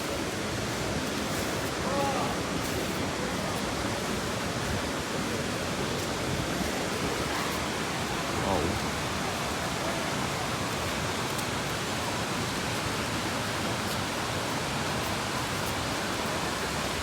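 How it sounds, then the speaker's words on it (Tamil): The main waterfall at Courtallam roars as a steady, unbroken broadband rush from some distance away, constant and even in level throughout, like heavy rain. "சவுண்டு இங்கே வரைக்கும் கேட்குது, அந்த அருவி சவுண்டு."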